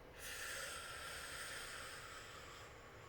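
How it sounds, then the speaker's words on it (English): A slow, deep belly breath drawn in during a calming tapping exercise, a soft airy hiss of inhaled air that swells quickly and holds steady, close and quiet with no talk. "Big deep belly breath"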